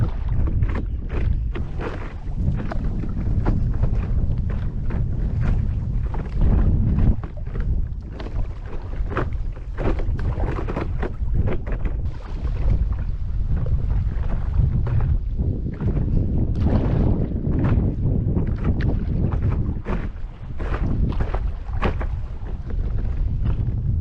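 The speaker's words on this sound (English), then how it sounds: "I realized how much stronger the wind had become" Strong wind buffets the microphone in loud, gusting roars during paddle boarding on a river at Ijams River Landing in Knoxville, with water sloshing against the board underneath.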